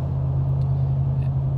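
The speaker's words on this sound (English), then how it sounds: "It's a highway, big trucks." Highway traffic with big trucks makes a constant low rumble and drone, steady and fairly loud, heard alone without talk.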